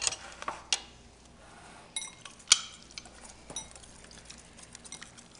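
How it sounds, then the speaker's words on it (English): Marinade with lemon juice whisked in a bowl, giving quiet scattered clinks and taps of utensil on the bowl with a few sharper knocks over a soft background. "and we'll whisk this together"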